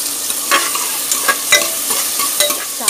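Chopped ginger, garlic, green chilli and onion, with whole garam masala, are stirred and fried in a pan, making a steady close sizzle broken by repeated scraping strokes of the spoon, with no one talking.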